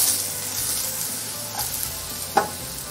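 Apples sizzling in a hot pan as they go in, a steady close frying hiss throughout with a single soft clink near the end.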